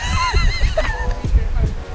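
A horse whinnies in a short, wavering call close by, with brief voices and outdoor noise around it, on Terceira Island in the Azores.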